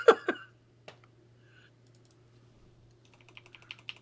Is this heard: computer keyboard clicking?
yes